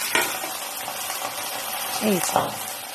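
Steamed bhetki fish paturi frying in a pan, a steady broadband sizzle with a few clinks of utensils and brief bursts of voice over it.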